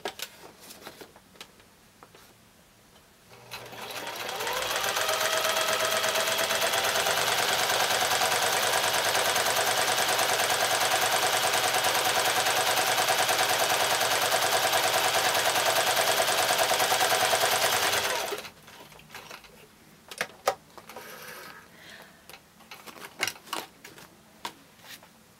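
Sewing machine stitching a foundation pieced quilt block, a steady, fast mechanical whir running continuously for about fifteen seconds, close and fairly loud, with quieter handling noises before and after.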